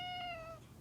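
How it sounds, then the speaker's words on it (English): A house cat meows once, a clear, drawn-out whining cry up close that fades at the end, heard alone without talk. "We're the neediest cat."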